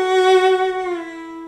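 A bowed cello plays a slow, simple melody alone, its warm, rich tone sustaining smoothly and fading gently at the end.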